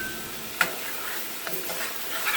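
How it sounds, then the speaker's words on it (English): Small diced tomato with Italian seasoning sizzling in a pan, with a faint steady fry and a few soft clicks of stirring, quiet and close. "I'm only going to let this kind of cook, stirring it here for about a minute"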